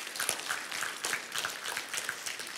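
A crowd standing and applauding themselves at a gathering, brisk many-handed clapping that rolls on evenly for a few seconds, fairly close and full.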